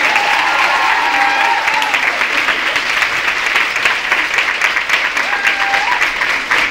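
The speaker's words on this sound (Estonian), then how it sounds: "Teeme neile palun ühe suure aplausi." Steady, full applause from an audience at a school concert and ceremony, loud and even throughout with a few faint voices mixed into the clapping.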